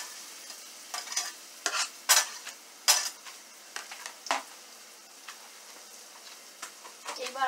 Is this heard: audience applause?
no